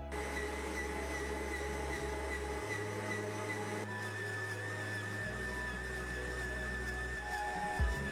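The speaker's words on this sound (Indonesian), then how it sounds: "dalam tahap ini itu bisa kita ulen menggunakan mixer khusus adonan roti seperti" A bread stand mixer kneading dough runs with a steady, continuous motor hum that shifts pitch a couple of times as the load changes, close and fairly loud throughout with no talk.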